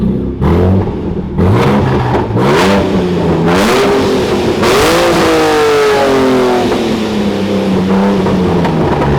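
A Ford Mustang engine revs hard with its exhaust valves open, loud and close, in several rising throttle blips that climb and fall before settling into a sustained drone.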